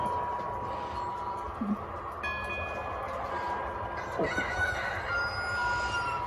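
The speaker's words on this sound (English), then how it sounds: "There's the roosters crowing up a rooster storm." Roosters crowing at a distance, several calls overlapping against a steady outdoor hum, with a few clucks in between.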